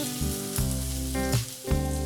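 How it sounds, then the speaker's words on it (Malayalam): Crushed shallots hit hot oil for a jackfruit-seed stir-fry and sizzle steadily and close, with a few bursts of sharper crackling. "ഇനി ഇതിലേക്ക് നമ്മൾ ചതച്ചെടുത്ത് വെച്ചിരിക്കുന്ന ഉള്ളി ഇട്ട് കൊടുക്കാം."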